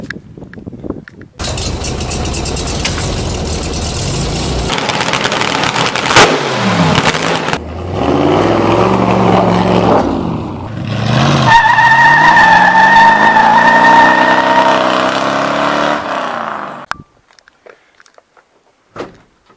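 A 1978 Dodge Warlock pickup's engine runs steadily and close by, with a brief mechanical shift as the truck is put into drive, a sustained tonal whine rising midway, then cutting off near the end.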